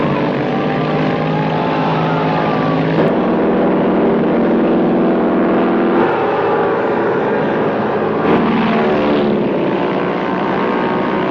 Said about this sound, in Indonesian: Ratusan pesawat pengebom serta peluncur torpedo diterbangkan dari 6 kapal induk Jepang untuk menyerang